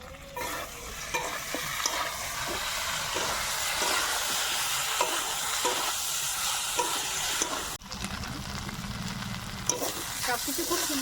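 Ridge gourd, potato and plantain being sautéed with ground spice paste, salt and turmeric in a pan, giving a continuous close hiss of frying broken by regular scraping stirs, with one short pause near the end.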